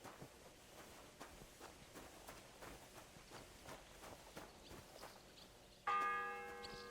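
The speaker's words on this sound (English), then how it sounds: "The first bell. Another 11 to go." A church bell in the Kingdom Come Deliverance 2 video game strikes once near the end, loud and ringing on with a lingering metallic tone, after a stretch of repeated footsteps on a hard surface.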